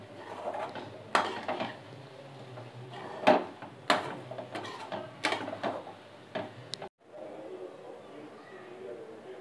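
Spatula scraping and clanking against a pan while coconut and raw banana masala is sautéed, a series of sharp metallic knocks over a low sizzle, with a voice speaking throughout.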